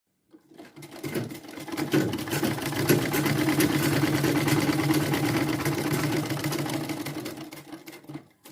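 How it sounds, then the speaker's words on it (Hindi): A domestic sewing machine stitches fabric in a continuous fast mechanical whir and rattle that starts after a short silence, holds steady for several seconds, then slows and stops, with no talking. "तो यहाँ पर अब हम सिलाई लगा के आपको फिर से एक बार दिखा भी देते हैं।"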